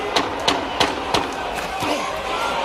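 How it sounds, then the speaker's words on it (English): A Madison Square Garden crowd at a boxing title fight roars in a continuous wash, punctuated by several sharp thudding impacts spaced roughly a third of a second apart, fairly loud and close. "This crowd is loving this title fight already."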